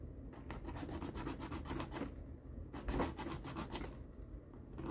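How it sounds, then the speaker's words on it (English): Nail file rubbing back and forth across fingernails in steady rapid strokes, close and quiet, with brief pauses between bursts of filing. "I'm filing my nails"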